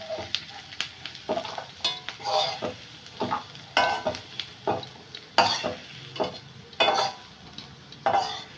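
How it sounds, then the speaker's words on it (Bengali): Potatoes, onions and green chilies stirred in a hot pan, with repeated scraping strokes over a soft sizzle of frying, close by and steady. "আলু ভাজা পেঁয়াজ ভাজা আর কাঁচা লঙ্কা এই ভাজাটা হয়ে গেছে এবার আমি তুলে নেব"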